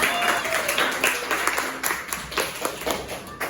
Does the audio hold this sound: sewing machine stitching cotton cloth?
no